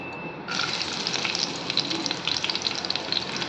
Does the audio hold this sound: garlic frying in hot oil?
yes